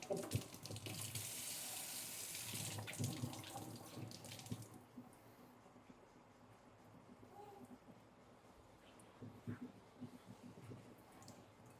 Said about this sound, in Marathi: बादलीने खाली पडते पाणी.